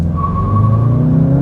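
A 2025 VW Jetta GLI Autobahn with a turbo engine pulls away from a stop, a steady loud engine drone rising gradually in pitch, close and uninterrupted by talk.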